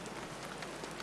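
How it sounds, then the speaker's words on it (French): Steady rain falls outdoors in the open countryside, a dense, even hiss of drops on surfaces, continuous and close with no talk over it. "il se met maintenant à pleuvoir"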